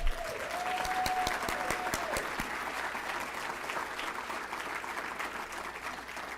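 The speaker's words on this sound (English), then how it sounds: "one more round of applause" Applause from a symposium audience fills the room, a dense steady wash of many hands clapping that holds at even strength, with a brief sustained tone early on.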